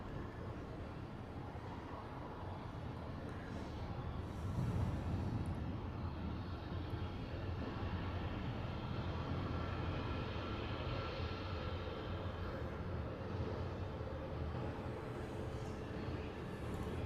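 An Aeromexico airliner passes at LAX, a broad, steady jet roar holding at moderate distance for about seventeen seconds, swelling slightly near the middle and easing off, with no talk over it.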